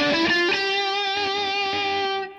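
Overdriven electric guitar through a Line 6 Helix processor with moderate, crunchy distortion, a sustained chord ringing out close and loud with a few picked accents, fading slightly at the end; no talking.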